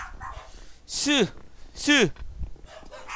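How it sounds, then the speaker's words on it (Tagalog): Two sharp dog barks about a second apart, loud and near, over low background noise and faint murmurs. "Napakaingay ng aking mga aso."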